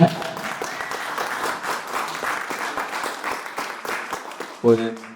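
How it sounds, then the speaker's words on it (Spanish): Applause from an audience at a book and poetry presentation in a cultural centre, an even patter of many hands that fades out at the end as a voice begins speaking. "un aplauso otra vez"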